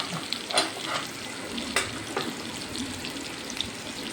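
Kingfish pieces fry in a non-stick pan for biryani, making a dense, continuous hiss of hot oil with a few sharp pops and light clicks, close and without speech.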